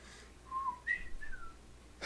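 A person whistles a short, wavering tune of a few rising and sliding notes, fairly close and alone, with no talk over it.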